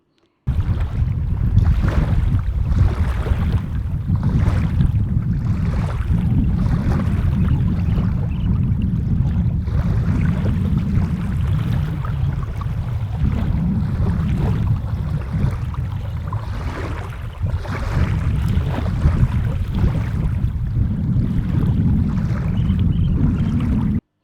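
Strong wind buffets the microphone outdoors beside flowing water, a steady low rumble with gusty broadband roar running continuously for the whole stretch, no voices heard.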